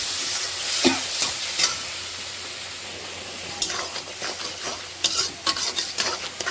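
Vegetables with a spice paste, cumin powder, salt and turmeric sauté in a pan: a steady sizzle runs under scattered scraping stirs, with the stirring getting busier toward the end.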